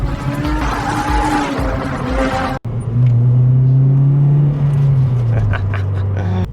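Honda Civic Type R EP3 with a high-revving engine and manual gearbox driving, a loud engine note that cuts briefly, then a steady rising and falling drone with road rumble.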